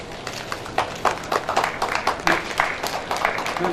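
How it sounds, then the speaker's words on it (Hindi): Scattered audience clapping at an annual function, uneven bursts of hands rather than a full ovation, moderately loud in a hall-like space. "जोरदार तालियां बजनी चाहिए,"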